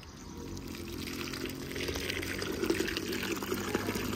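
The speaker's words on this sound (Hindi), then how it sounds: "नहीं पानी डालो" Water pours and splashes softly into the soil of freshly planted potted plants at home, a steady low trickle that swells slightly over a few seconds.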